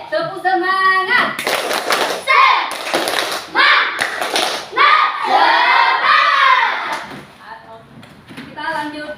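Classroom of students doing a rhythmic spirit clap, bursts of group hand claps alternating with children chanting and shouting together, loud and close.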